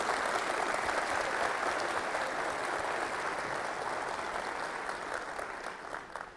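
An audience at a lecture for drivers on Drivers' Day applauds in a sustained, dense burst of clapping that stays steady and then tapers slightly toward the end, with no speech over it.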